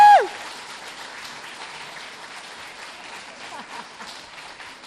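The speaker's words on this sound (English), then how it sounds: "Can we give her a round of applause?" Steady crowd applause fills the room, many hands clapping at an even level, with a brief cheer or whistle at the start.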